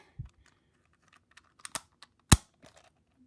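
Handling Oscar's treasure chest puzzle cube, a sticker-free cube whose top lifts off, with a few scattered plastic clicks and one sharp clack in the middle, close and quiet, with no talking.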